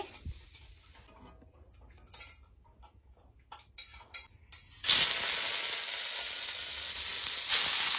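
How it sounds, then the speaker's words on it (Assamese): Paneer pieces frying in hot mustard oil in a new steel kadai on a gas stove: quiet scraping and light clatter at first, then a loud, steady sizzle bursts in midway and holds to the end. "মই পনীৰখিনি ফাৰ্ষ্টতে ভাজি লম"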